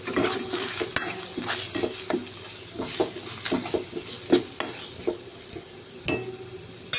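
Spices and ginger-garlic paste fry in a pan with a steady close sizzle, broken by repeated scraping clinks of a spoon stirring against the metal, no voices.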